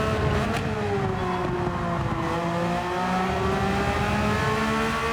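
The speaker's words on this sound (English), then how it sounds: "Me really pushing this Porsche to the limit, as I do kind of run wide" A Porsche race car engine in a racing video game revs hard and steadily at high pitch, pushed near its limit through a corner, loud and continuous with no talk.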